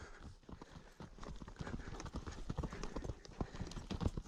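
Steady, rhythmic hoofbeats of a horse moving at a quick trot on a lunge, close by, with soft scuffing on the ground and no talking.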